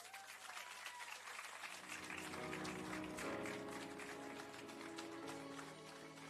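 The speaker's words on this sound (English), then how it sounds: "Can we give her another round of applause, please?" An audience applauds a singer at the grand opening of a KFC restaurant, dense sustained clapping that swells and holds steady, with a faint voice and some tonal sound beneath at the start.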